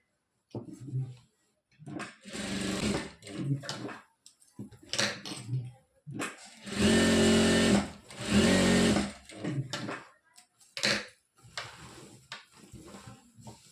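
A sewing machine stitches a churidar pant in bursts of steady motor whirring, several runs separated by short pauses, close and loud with no talking.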